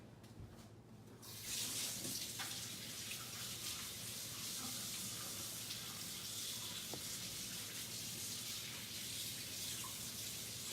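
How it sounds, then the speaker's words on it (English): Warm water runs from a tap as a craft transfer is rinsed off, a steady close gushing rush that starts after about a second of quiet and continues evenly throughout, with no talking. "let me just rinse this off real quick"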